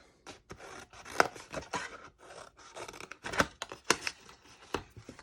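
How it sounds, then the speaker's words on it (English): Scissors snip through paper or card tabs at an angle while a treat bag is being made, giving a series of crisp, close cuts and rustles in an irregular rhythm. "I'm going to cut those tabs at an angle"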